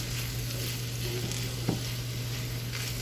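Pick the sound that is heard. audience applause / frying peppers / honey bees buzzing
frying peppers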